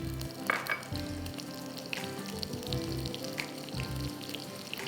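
Cumin and green chillies frying in hot ghee for kala channa kadhi, a close, continuous sizzle with crackling pops and occasional low clatter of a pan.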